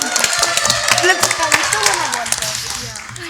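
A round of applause for quiz team LFIM after a knock-out quiz match, dense clapping that carries on steadily beneath a presenter's speaking voice.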